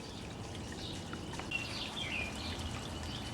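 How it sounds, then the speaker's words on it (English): Birds sing faintly in the morning near a pond with cold-water fish, brief chirps scattered over a steady background hiss. "Oh, I love the sound of the birds"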